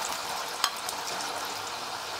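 Pieces of garadu yam fry in hot oil with a continuous soft hissing sizzle and one small clink, close but fairly quiet, with no one talking.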